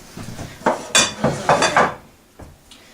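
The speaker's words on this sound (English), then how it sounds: "I'm going to take this white flour here, put that in there, till we get a good stance of it, get it all blended up good and nice together." White flour being mixed in a bowl, a short run of clinking and scraping spoon strokes against the bowl, close and fairly loud, then fading.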